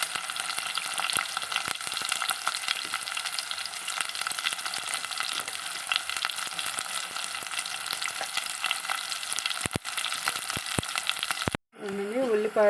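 Large onions frying in oil in a pan for a prawn and raw mango curry, a dense steady sizzle with scattered crackles, close and continuous, ending with a brief pause and a faint voice.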